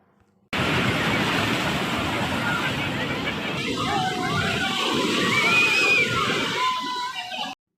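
Sea waves wash onto the beach at Puri in the morning, a loud, continuous sloshing roar that swells and fades, with a faint babble of distant crowd voices underneath.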